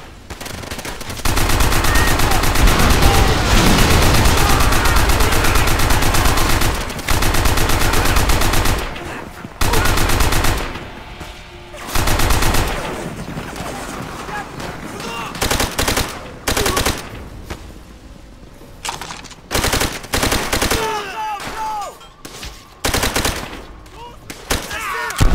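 Machine gun fire in Call of Duty: World at War combat, long sustained loud bursts of automatic gunfire that break into shorter choppy volleys and scattered shots, close and dominant.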